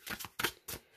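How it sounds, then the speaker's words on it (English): Thin, bendy tarot cards with a matte finish from the Urban Tarot deck by Robin Scott are shuffled in three quick, close papery bursts of riffling, with no talking. "Shuffle brilliantly. There's no sticking."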